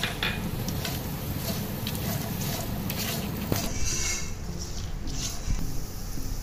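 Cashew nuts fry in a pan for a Telugu daddojanam prasadam recipe, with a steady soft sizzle and occasional scraping and clinks of a spoon stirring, heard close and alone.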